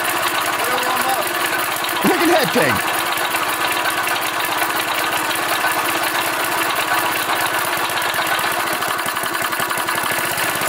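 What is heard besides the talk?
small two-stroke engine idling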